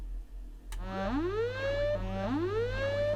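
An alarm signal from the horror video game Midnight Scenes 2 sounds as two rising, siren-like electronic wails over a steady low hum. A short click comes just before them, and no voice is heard.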